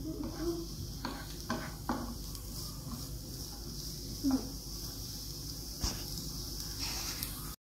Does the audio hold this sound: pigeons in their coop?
no